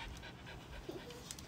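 Dog panting in quick, steady breaths close by, a continuous rhythmic huffing that runs throughout at moderate loudness with no talk over it.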